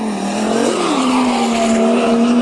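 A Nissan S14 Silvia drift car in a desert drift competition howls at high revs, its engine pitch dipping then holding steady under a loud, continuous tire squeal, close and intense.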